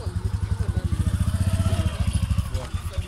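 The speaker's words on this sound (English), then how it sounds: "very loud motorcycle, really loud" A loud motorcycle engine runs close by in a Kenyan motorcycle workshop, its rapid, even thumping pulses chugging steadily throughout with a slight rise and fall.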